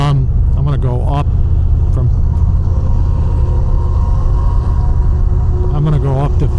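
A 2025 Harley-Davidson Fat Boy Grey Ghost cruises on a thruway, its engine and wind roar forming a constant loud drone while a rider talks over it.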